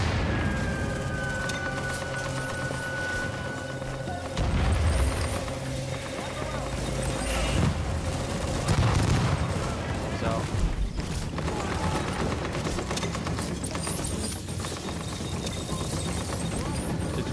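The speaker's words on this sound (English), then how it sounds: "Just watch for the APC shooting." An armored personnel carrier opens fire in the game Falcon Lost, with dense bursts of gunfire and booms mixed with vehicle rumble and other battle noise throughout.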